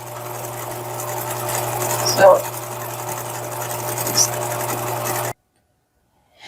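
A sewing machine stitching a summer dress for a restored vintage Sweet Sue doll runs in a steady close mechanical whir with a couple of brief louder bumps, then cuts to near silence.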